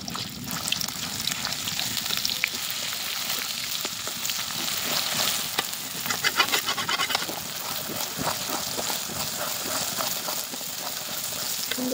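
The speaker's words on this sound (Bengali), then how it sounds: "তেলটা গরম হয়ে গেছে। এখন সেই বাটা মশলাটা দিয়ে দেবো।" Ground spice paste sizzles and fries steadily in hot oil in a wok while pickle is being made, a loud, continuous crackle with occasional stirring scrapes close by.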